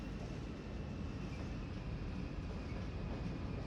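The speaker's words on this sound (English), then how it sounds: "it is still really cool to see like the trains kind of passing and stuff" Trains rolling through a city in Cities Skylines, a steady low rumbling drone of rail traffic that holds at an even, fairly loud level throughout.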